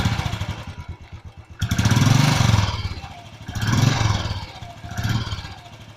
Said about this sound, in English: This bike is fitted with the stock exhaust of the Electra 350. Come, let us hear the sound of it